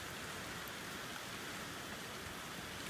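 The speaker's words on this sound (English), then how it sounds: "See, it's raining like crazy." Heavy typhoon rain pours down in a steady, dense hiss, with no breaks and no voices, the downpour continuous and fairly close throughout.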